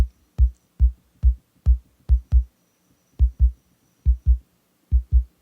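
Kick drum with a 1 millisecond attack that softens the click, deep isolated thumps in irregular pairs with rounded onsets and silence between them.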